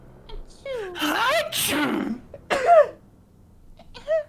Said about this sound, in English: And I'm going to sneeze to win.